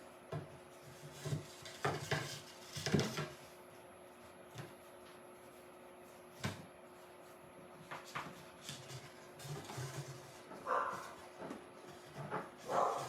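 Dogs bark in the background of a quiet indoor craft session, a handful of faint, scattered barks spread out with quiet gaps between them, distant and low in level.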